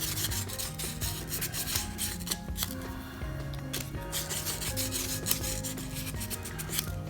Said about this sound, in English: The first thing you want to do is you want to scuff your brass tubes.